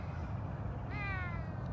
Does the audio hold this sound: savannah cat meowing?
yes